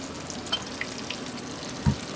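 Thick swordfish steak pan roasting in a hot pan, a steady loud sizzle and crackle throughout with a few small pops and no talking.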